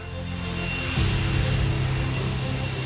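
An Airbus A400M military transport aircraft, the MSN 001 prototype, on its first flight at Toulouse, roars with a loud, steady engine drone and propeller hum that swells slightly partway through.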